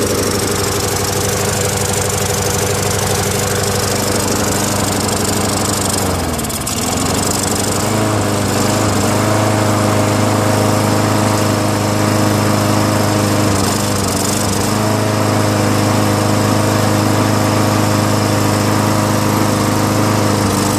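An MTD Yard Machines 6.75 push lawn mower engine runs loud and steady close by, a continuous rough drone with a brief dip partway through and no talking.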